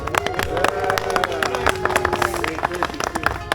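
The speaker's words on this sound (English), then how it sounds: "Let's give her a round of applause, please." A round of applause at a home dinner gathering, steady clapping from a small group near the tables with voices and chatter running underneath.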